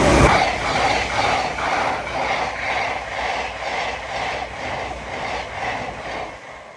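A service train pulls away from Alexandra Palace station on the East Coast Main Line, bound for Hornsey depot. A steady, close rolling rumble runs throughout, with a rhythmic wheel clatter that pulses every half second or so.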